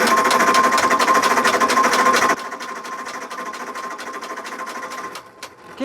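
The engine of a 79-year-old abandoned airplane cranking over, a rapid, even mechanical chatter that is loud at first, then drops to a quieter continuing rattle before fading out.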